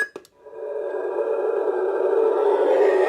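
Custom Master Replica Darth Vader lightsaber hilt with a sound font booting up: a couple of sharp crackly clicks, then a steady loud electric hum that swells slightly and holds.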